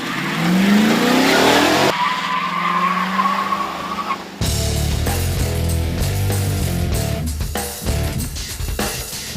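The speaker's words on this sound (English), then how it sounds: "our first event was a good old-fashioned drag race" Two police-spec sedans, a Chevy Caprice and a Ford Crown Victoria, launch side by side in a drag race, with loud tire squeal and skidding followed by roaring, revving engines accelerating hard and close by.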